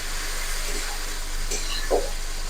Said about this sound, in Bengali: পেঁয়াজটা ভাজা হয়ে গেছে, এবার ওর মধ্যে আমি দিয়ে দেবো টমেটো কুচি।